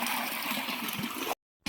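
Water pumped by a running motor pours out steadily in a loud, continuous gush on a farm, then cuts off abruptly into brief silence before resuming.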